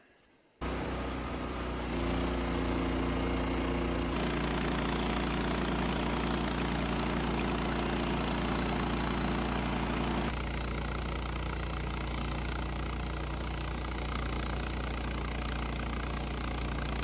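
A Woodmizer LT15 sawmill runs its engine and band blade through an incense cedar log to cut off a slab, with a loud, steady drone that changes pitch a couple of times as the cut goes on.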